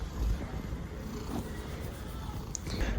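A stray cat purrs close by, a low, continuous rumbling that sits under faint background noise for a few seconds.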